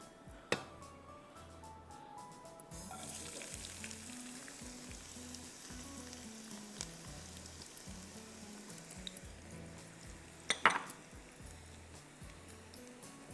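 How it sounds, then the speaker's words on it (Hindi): A cup of chopped onions sizzles steadily in hot oil as they fry toward golden, with a continuous crackle over soft background music and a few sharper clinks of stirring. "अब हम इसमें डालेंगे प्याज 1 कप, और प्याज को हमें करना है खूबसूरत सा गोल्डन।"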